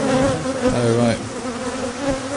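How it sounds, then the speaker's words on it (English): Close bees buzz and hum with shifting pitch around a beekeeper working at an open hive in an apiary, a steady drone with swells as insects pass near the microphone. "You've got a bee underneath your chin."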